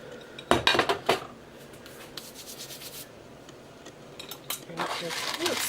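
Glass Anchor Hocking dishes with plastic lids clink and rub as they are handled, with a cluster of sharp clattering knocks early on, then quieter scraping and a few more close clinks toward the end.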